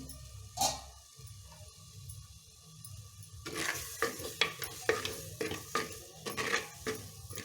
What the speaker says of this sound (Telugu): ఒక రెండు నిమిషాలు వేగనిద్దాం వేగిందేమో చూద్దామండి